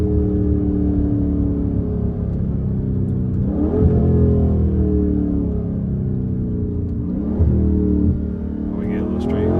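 A straight-piped Dodge Charger Scat Pack roars loudly at night, its engine revving and accelerating in a sustained, rising drone with a couple of sharper surges.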